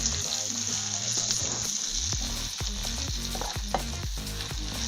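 Sliced jackfruit seeds sizzle and fry in a pan as they are stirred, with steady crackling and repeated scraping strokes of the spoon close up, no voices.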